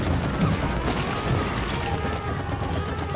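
Repeated gunfire from It Takes Two, a dense, continuous stream of shots and impacts over busy game sounds, with voices talking now and then.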